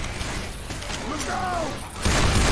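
A weapon is reloaded in Left 4 Dead 2, metallic clicks and mechanical clacks of the action under game noise, followed by a burst of louder gunfire and commotion.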